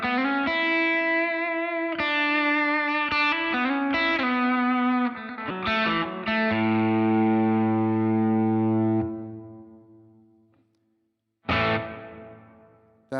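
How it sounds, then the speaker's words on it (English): Electric guitar through a plate reverb on a Line 6 Helix running firmware 3.15, sustained chords and single notes with lush long tails that ring out into silence before a final strummed chord. "That is just an insane plate."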